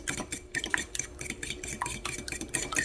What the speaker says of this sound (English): I'm going to mix my eggs, and I put 2 eggs in here